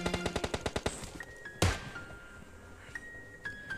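Gunfire in the mobile battle-royale game PUBG Mobile Lite: a rapid automatic burst of about a dozen evenly spaced shots, then one heavy single blast followed by a few scattered fainter shots and metallic pings, no voices.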